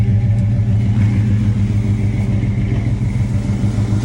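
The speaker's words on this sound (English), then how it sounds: "So we're idling." A big block Chevrolet Monte Carlo V8 idles steadily at about 800 rpm, a loud, close, continuous low rumble with no talking over it.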